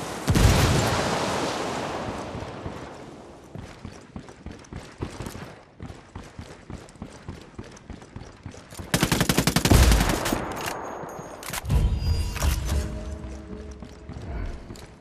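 Gunfire crackles in the Ghost Recon Wildlands video game: a loud burst opens, then rapid repeated shots and mechanical clatter, with another heavy blast and sustained automatic fire later on.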